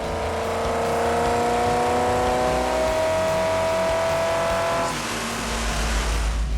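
A 1986 Chevrolet Camaro IROC-Z V8 on a naturally aspirated dyno pull with timing pulled out drones loudly and steadily as its revs climb, then cuts off sharply near the end into a lower rumble.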